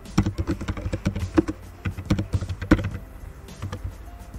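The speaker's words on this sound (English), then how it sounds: "This will be the text that we will type." Rapid, close keystrokes on a computer keyboard typing text, a fast uneven patter of taps with brief pauses between runs.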